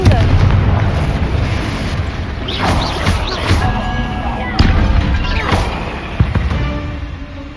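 Confringo blasting spell explosions in the Hogwarts Legacy video game, a busy run of loud booms and sharp cracks over dense low rumble, with several distinct impacts spread through the stretch and a voice calling out between them.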